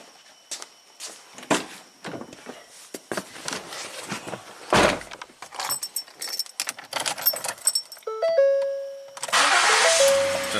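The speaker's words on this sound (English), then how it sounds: "So let's start the car up." A 2013 Ford Edge with a V6 engine is started in a repair shop: keys jangle and footsteps and a door sound first, then warning chimes, then the starter cranks and the engine catches into a steady idle.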